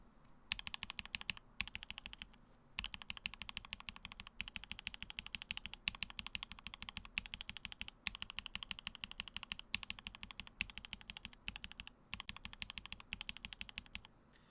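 Steady typing on a mechanical keyboard fitted with lubed, filmed Mode switches: quick, light, evenly paced clacks in bursts, close and clear with short pauses between runs.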